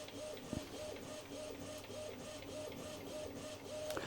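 An Epson WF-2010W inkjet printer runs through a page, its print head shuttling back and forth in a steady repeating whir with periodic mechanical clicks, close and alone.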